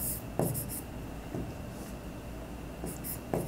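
Pen or pencil scratching across paper, writing out an accounting answer by hand, in short soft strokes with brief pauses between, close and quiet, no talk.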